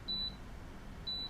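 An electric 304 stainless steel hot pot (Olayks, 700W, 2-litre) gives two short, clear electronic beeps about a second apart as its button is pressed, in a quiet room.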